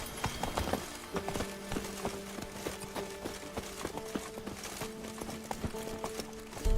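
Roach, Geralt's horse in The Witcher 3 video game, gallops with rapid, steady clip-clop hoofbeats over a constant low ambience, clear and fairly close.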